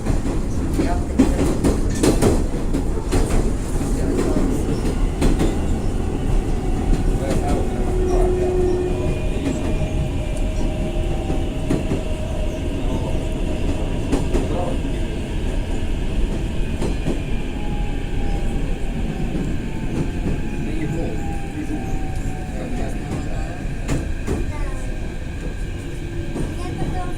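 Train wheels clatter steadily over rails inside a moving passenger carriage, a loud continuous rumble with rhythmic clicks, some faint tonal squeals and a few brief voices underneath.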